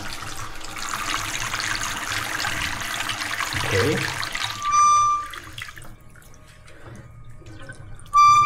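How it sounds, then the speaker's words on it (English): Hotel water tap running with noisy plumbing, a loud hissing rush of water with a brief gurgle, then a piercing tonal squeal from the pipes that cuts off and returns; a voice speaks briefly. "look how it sounds like when you try to use the water."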